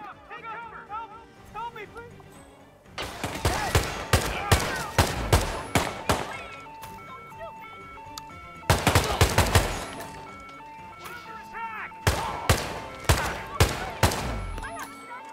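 Gunfire in Hitman 2 during a party contract: repeated bursts of shots in clusters, loud and close, broken by short pauses, with someone talking over parts of it.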